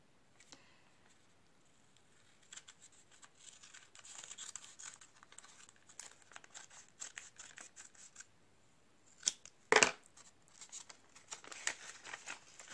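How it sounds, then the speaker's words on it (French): Scissors snip and slice through the paper wrapping of a parcel, with bursts of crinkling and tearing paper between the cuts, close and fairly quiet, ending in a sharp rustle. "je n'ai pas de cutter, donc je vais couper"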